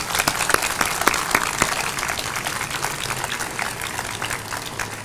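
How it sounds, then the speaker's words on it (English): Veterans and their families receive a round of applause at a Veterans Day ceremony at a cancer center, steady moderate clapping from an indoor audience with no talk over it. "give them one more round of applause before we dismiss"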